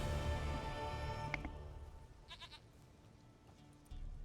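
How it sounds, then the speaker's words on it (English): A goat bleats in the video game The Witcher 3 with a couple of short, nasal cries midway, after a louder background sound fades out. "Goat of mine, dearest, sweetest goat."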